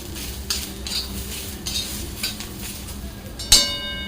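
Onion roasting dry in a pan until charred black for Maharashtrian mutton rassa, giving a steady soft sizzle with scraping stirs and light metal clinks, plus one sharper clatter near the end.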